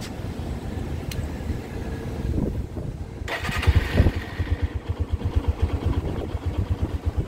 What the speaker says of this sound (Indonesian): Suara mesinnya emang kalau orang yang nggak biasa emang terasa agak aneh ya